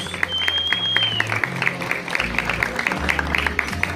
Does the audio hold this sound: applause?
yes